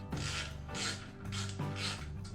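A ratchet loosens 10mm bolts from a motorcycle heat shield, giving repeated close, loud clicking bursts in an alternating back-and-forth rhythm, with no voices.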